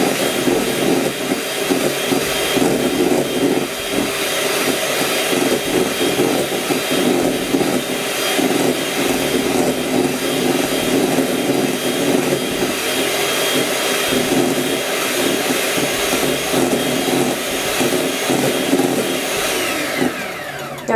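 An electric beater whips coconut milk pudding mixture with powdered sugar, a loud, continuous motor drone with rough churning texture that holds steady for about twenty seconds, close up and without talk.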